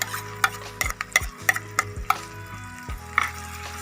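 Spoon stirring mashed eggplant bharta with green chillies in a hot pan, repeated scraping and clacking strokes against the metal over a low sizzle, close up with no talking.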